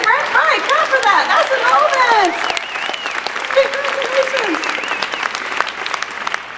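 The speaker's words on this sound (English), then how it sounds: "Clap for that" Conference audience on opening night claps and cheers loudly, with enthusiastic whoops and shouted voices riding over the dense applause, which tapers slightly toward the end.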